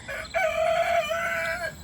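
A chicken gives a single drawn-out, nasal call that holds steady for over a second, close and fairly loud, with no talking.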